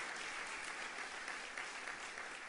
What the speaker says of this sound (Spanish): le diré que la habéis aplaudido